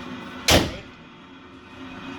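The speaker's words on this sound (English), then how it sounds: "go ahead and shut the door." A car door slams once, a sharp close thump against a steady background hum from an idling vehicle with its exhaust running.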